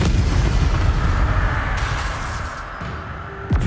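Bombarda blasting spell explosion in the Hogwarts Legacy video game: a loud, sustained booming rumble that slowly fades, followed by a short sharp pop near the end.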